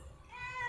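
A cat gives a single drawn-out meow, close and moderately loud, rising slightly in pitch over a faint background.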